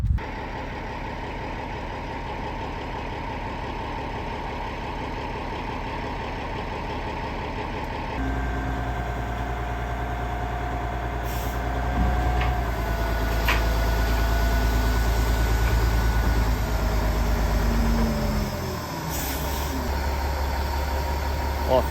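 A truck idling while it delivers a load of soil, its engine a steady low rumble close by that shifts and swells partway through before settling, with faint voices now and then.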